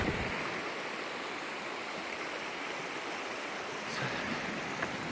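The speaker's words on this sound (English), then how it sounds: "I can hear water, but not big waterfall." Steady broadband rush of river water flowing over rocks on the Dartmoor moors, a continuous close wash with no voices.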